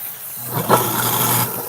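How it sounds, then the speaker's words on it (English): A kitchen sink garbage disposal starts up with a low hum that swells into a loud, steady grinding roar, holds for about a second, then cuts off, with no speech. "I'm sorry for the noise I'm about to make, but I have to turn on the trash thing"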